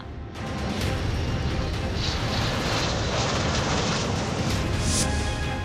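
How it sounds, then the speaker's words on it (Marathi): An Indian Air Force MiG fighter jet produces a loud, continuous engine roar that swells in within the first half-second and holds steady, with no talking. "MiG fighter jet"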